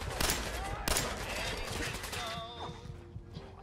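Gunfire in the video game Fallout 4, with a couple of sharp loud shots early on followed by dense continuous combat noise, close and busy, with a voice talking over it.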